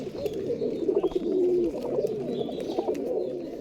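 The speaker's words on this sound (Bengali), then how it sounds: "এটাও পাকিস্তানি টেডি মাদি কবুতর, এটাও ভালো উড়বে" Pakistani teddy pigeons coo close by in a steady stream of soft, rolling calls that overlap and pulse for several seconds.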